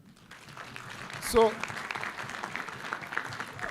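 A conference crowd breaks into applause, a swelling wash of clapping that rises after a sharp sound and continues under a speaker's voice.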